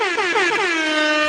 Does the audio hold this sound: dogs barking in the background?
no